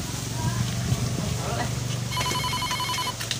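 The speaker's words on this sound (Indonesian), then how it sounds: "Kayak ada telepon" Telephone ringing in a comedy scene, a trilling electronic ring that starts partway in and repeats in short bursts, heard over busy background noise and voices.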